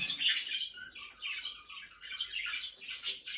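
Budgerigars chattering in a cage, a male courting a female with rapid, continuous warbling chirps and squawks, close and fairly quiet, no voices.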